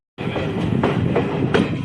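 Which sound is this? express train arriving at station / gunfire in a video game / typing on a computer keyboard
express train arriving at station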